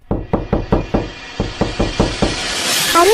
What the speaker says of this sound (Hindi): दरवाजा खटकने लगा।